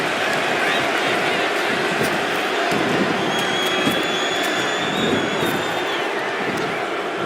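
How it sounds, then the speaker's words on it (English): A crowd in the WWE 2K25 wrestling video game roars and cheers continuously, a dense loud wash of noise with no breaks across the whole stretch. "The crowd is going absolutely crazy right now."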